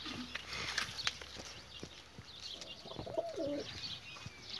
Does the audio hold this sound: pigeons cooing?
yes